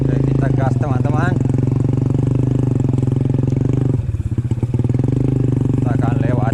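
A motorcycle engine accelerates up close on a rural farm track, throttling steadily under continuous loud engine noise, while a voice speaks briefly over it.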